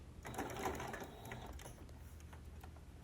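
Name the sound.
sewing machine stitching quilt binding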